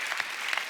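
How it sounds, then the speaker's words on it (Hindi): Brief burst of studio audience applause on a Hindi comedy talk show, a dense crackle of many hands with no speech, at moderate level. "तालियां, तालियां।"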